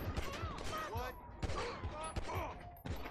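Rapid gunfire from a weak weapon in GTA Online, bursts of shots rattling against many enemies in a busy game mix with music and effects, mid-level and continuous.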